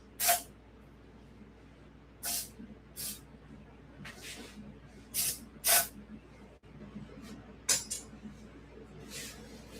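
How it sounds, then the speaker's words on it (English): Short hissing bursts from a spray can of non-flammable cleaner spritzed onto the gummy parts of an old Huffy five-speed bicycle, about ten close, separate sprays with quiet gaps between them. "Well, here's some non-flammable stuff. Maybe we'll just do a quick spritz in here."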